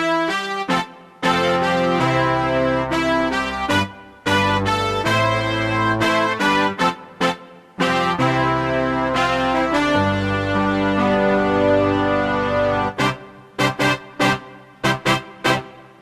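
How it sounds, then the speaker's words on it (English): Bright layered synth brass and saxophone tones from a Nord Stage 4, mixing Phantom and Nord brass with Phantom saxophone, play sustained chords and punchy stabs in a steady rhythm, loud and alone with no talking. "I made this one by mixing the brass sounds from the Phantom, the NORD, and also the saxophone sound"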